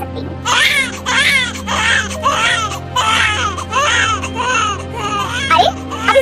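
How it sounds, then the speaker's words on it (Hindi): A baby cries in a steady run of rhythmic wails, loud and close, in an animated Hindi forest story, with no talking over it. "अरे, अब इस बच्चे ने तो रोना शुरू कर दिया"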